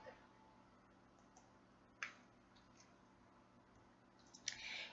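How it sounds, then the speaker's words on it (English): Quiet room with a few sharp little clicks and rattles, a cat batting a bottle top about, the last burst slightly longer. "that's my cat playing with the bottle top."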